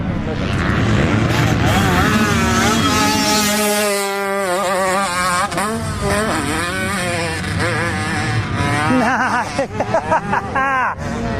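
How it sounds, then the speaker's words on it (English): A 2-stroke dirt bike rides a wheelie up a hill at the Glen Helen motocross track. Its engine wails close by in rising and falling rev sweeps, with people talking over it. "Riding a wheelie all the way up the hill."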